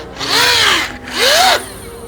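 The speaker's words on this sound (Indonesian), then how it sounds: "Karena gearbox setir bunyinya memang kayak gini." A small electric steering gearbox motor in a 12-volt battery-powered ride-on toy car whirs in two short bursts, pitch sweeping up and down each time, close and fairly loud with a brief pause between.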